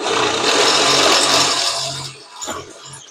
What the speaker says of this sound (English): real light pressure. Let the drill do the work.